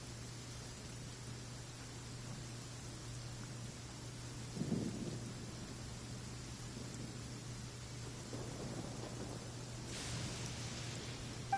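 Thunder rumbles through steady rain in Genshin Impact during a lightning attack, with a few low booming strikes rolling over a continuous storm wash, moderately loud and with no talking.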